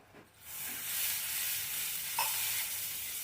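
Onion masala gravy for chana masala sizzling steadily in a pan after a splash of water, a continuous loud hiss that swells in after a quiet start, with a brief clink partway through and no voices.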